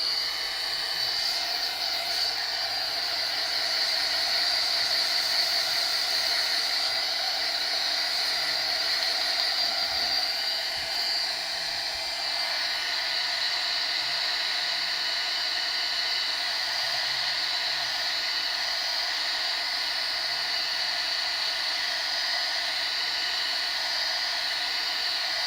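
A heat tool blows a steady, loud hiss of hot air over an embossed stamped image, droning on without a break for about 25 seconds with no voices.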